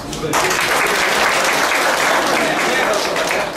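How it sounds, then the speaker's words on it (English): A large audience at a pyramid meditation talk in Bangalore bursts into dense, loud applause that stays steady and sustained for several seconds. "I have to give a big clap to all of you"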